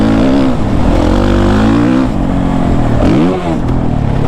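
Suzuki RMZ 450 motocross bike loud and close, its engine burbling and popping as it engine-brakes off the throttle, with a short rev rise and fall near the end.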